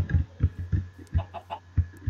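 Soft, short clucks from small chickens in Minecraft repeat at an uneven pace, clear and close, with faint higher chirps between them.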